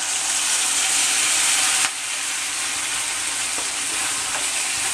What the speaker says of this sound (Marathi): त्यामध्ये आता हे वाटलेला कांदा घालून घेते